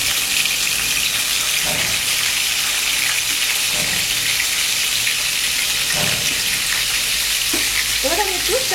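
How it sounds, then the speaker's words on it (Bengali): Pieces of katla fish slide into hot oil and fry, giving a loud, dense continuous sizzle with a few soft stirring bumps and a faint voice near the end. "তেল আমার গরম হয়ে আছে, আমি আস্তে আস্তে মাছগুলোকে ঠিক এইভাবে দিয়ে দেব।"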